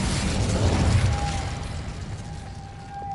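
A fiery Incendio spell bursts in the Hogwarts Legacy video game, a loud whooshing blast with low rumble that swells and then fades into a steady, slightly quieter hum with a thin ringing tone.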